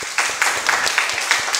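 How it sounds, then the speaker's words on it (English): A church audience gives a family a round of applause, with loud, close crowd clapping that includes a few distinct sharp claps over a brief steady wash. "can we give them a round of applause again?"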